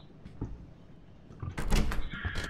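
A door opens in a horror video game set in Suite 776, a clear mechanical rattle and creak rising midway and carrying on to the end over a low room hum, fairly close and moderately loud.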